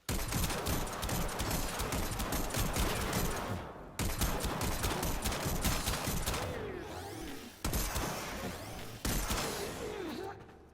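Rapid, dense bursts of weapon fire and blasts from the Staticor in the video game Warframe, loud and continuous in several long volleys separated by brief gaps, with crackling explosion tails.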